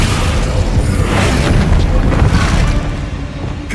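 An Incendio fire spell blasting in Hogwarts Legacy, a loud, sustained roaring burst of flame with dense crackling rumble that holds for several seconds before easing slightly at the end.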